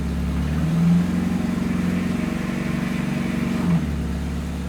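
The engine of a 1982 Pontiac Firebird, abandoned for 25 years, runs loud and close with a steady pulsing idle that briefly revs near the start and again near the end as the car is put in drive.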